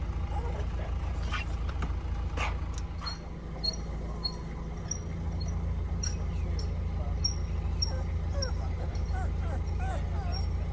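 Levi, a dog aboard a narrowboat sitting in dry dock on the Erewash canal, whimpers and gives short yips and barks. The cries are intermittent and moderately close, over a steady low droning hum.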